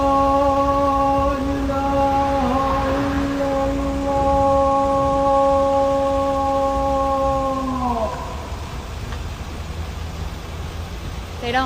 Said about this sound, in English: This is the call of prayer that goes off 5 times a day